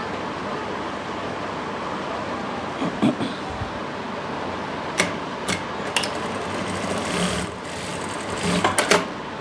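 Sewing machine stitching a seam on palazzo pants, a quiet continuous mechanical whir with a few sharp clicks and knocks, heard close, with someone speaking over it.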